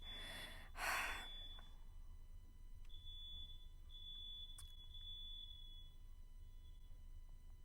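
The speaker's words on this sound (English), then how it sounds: "The fire alarms in my apartment have been going on and off for the past hour or two" Faint, high-pitched electronic chirps repeat in short bursts against a quiet room hum, after a brief breathy gasp near the start.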